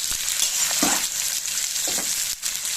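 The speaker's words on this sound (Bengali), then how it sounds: "পেঁয়াজটা দিয়ে নেড়ে চেড়ে ভালো করে ভেজে নেব।" Onions and green chillies fry in a pan, a loud close sizzle running throughout, broken by a few scraping stirs of a spatula against the pan; no one speaks.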